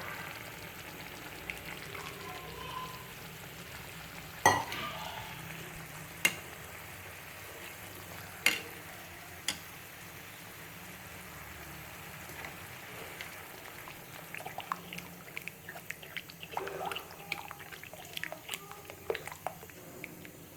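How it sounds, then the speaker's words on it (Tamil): Filtered jaggery syrup, boiled in water, is poured into flattened rice for aval payasam, a soft, steady trickle with occasional sharp clicks of utensils, faint and close, with no talking. "அதுக்கு 3/4 கப்பு வெல்லம் எடுத்து அதை நல்லா தண்ணியில் காய்ச்சி அதில் ஃபில்டர் பண்ணி எடுத்து வச்சுருக்கேன். ஸோ நம்ம இதில் ஊற்றிக்கலாம்."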